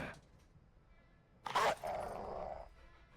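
A low, rough growl from a dog in the video game Modern Warfare II rises abruptly midway and rumbles on for about a second before cutting off, set against a quiet, murky background.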